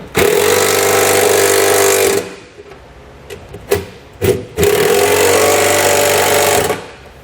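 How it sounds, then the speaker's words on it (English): Running board bracket bolts on a 2019 Ram being run down with a 13mm socket on a power driver, heard as two long, loud, close bursts of rattling motor whine separated by a pause with a few clunks. "We'll tighten these down with a 13mm socket for the larger bolts that we put in."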